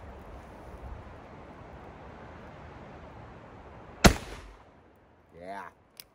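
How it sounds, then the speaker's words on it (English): An 1851 Colt Navy black-powder revolver fires a single loud, sharp shot outdoors against steady wind noise, followed by a brief ringing decay, and a voice speaks shortly afterward. "let's shoot some rounds off here."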